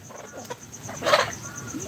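Chickens at a Pakistani chicken farm cluck in a short, close burst, with a steady hum in the background.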